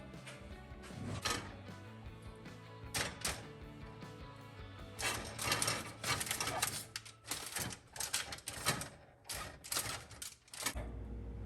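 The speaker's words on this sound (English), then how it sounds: "We're going to line that with tin foil." Tin foil crinkles, rips and rustles in a baking pan as it is torn and pressed into place while stuffed green peppers are prepared, with irregular crackling bursts close by.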